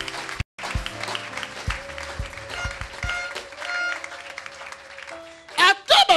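A church congregation claps and cheers in praise, dense applause spread across the whole stretch with a brief gap near the start and a louder burst of clapping and shouts near the end.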